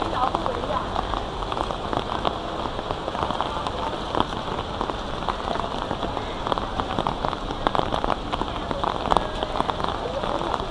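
Steady rain patters on surfaces all around a street of closed shops in Singapore, a dense, continuous hiss with scattered louder drops and no talking.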